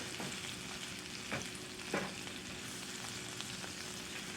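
Onions sautéing in a pan for double cheeseburgers: a steady, soft sizzle with a few brief stirring scrapes, heard alone with no talking.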